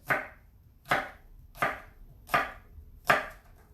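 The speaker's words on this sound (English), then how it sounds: "We're gonna make dices out of this." A knife dices fruit for a fruit salad on a cutting board, landing five evenly spaced, crisp chops close by with brief quiet gaps between strokes.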